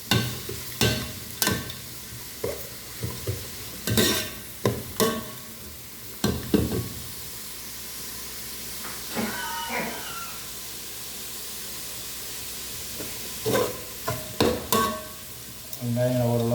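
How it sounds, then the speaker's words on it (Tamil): Onions frying in a pan for tomato rice, stirred with sharp scraping strokes in irregular bursts over a steady low sizzle, close and moderately loud, with no talking. "வெங்காயம் ஓரளவு நல்லா கலர் வதங்கிருச்சு."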